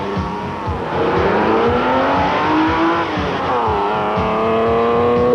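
A sports car fitted with a header roars as it accelerates hard, the engine note climbing steadily through the gears at close range, loud and sustained, with a tire-squeal edge, at the Silver State Classic open-road race.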